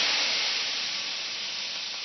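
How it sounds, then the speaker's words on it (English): Port wine hits a hot sauté pan used for turkey cutlets, producing a steady close sizzle and steaming hiss that fades slightly over two seconds. "So what I have is I have some port I'm going to add to the saute pan."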